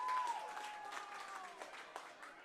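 Home crowd at a high school baseball game cheering and applauding, a broad wash of distant clapping and crowd noise that slowly thins, with a faint whistle-like tone at the start.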